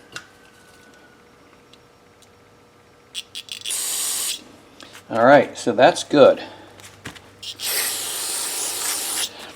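Several short hissing bursts from an aerosol spray can onto a disassembled Honda lawn mower carburetor, separated by pauses, with a person speaking briefly in between.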